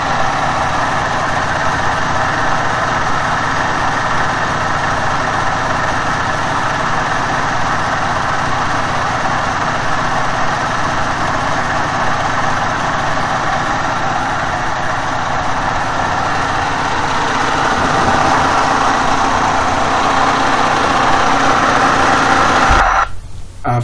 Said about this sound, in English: You can see this is the 12 kVA generator.